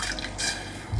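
Water poured into a pan with sugar for homemade cranberry sauce, a brief close splashing fill lasting about a second, with a soft thud at the end.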